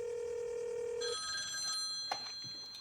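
A telephone bell rings with a steady electronic tone, loud and close, then shifts to a brighter multi-tone trill before a brief click near the end.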